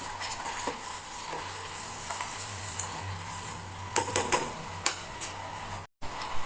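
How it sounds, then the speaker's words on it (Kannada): Ghee heats in a pan on a gas stove, giving a steady soft sizzle with scattered small ticks and pops, a few sharper crackles midway, quiet and close, then a brief dropout near the end. "ಈಗ ನಾನು ತುಪ್ಪ ಕಾಯಿಸೋಣ ಅಂತ ಒಲೆ ಮೇಲೆ ಇಟ್ಟಿದ್ದೀನಿ"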